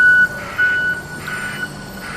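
A JCB backhoe moves off to load soil, its reversing alarm sounding a few clear, evenly spaced beeps over a low diesel rumble, close by.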